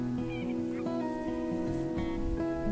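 A large wintering flock of barnacle, white-fronted or greylag geese honks continuously in a wind farm, with overlapping calls forming a loud, busy chorus with no pauses.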